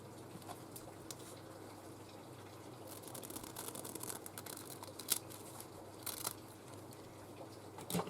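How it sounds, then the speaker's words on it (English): Scissors snipping through a paper craft tag up close, a series of faint crisp cuts that cluster into a denser run of snips toward the middle and end. "Those scissors are not the straightest scissors in the world."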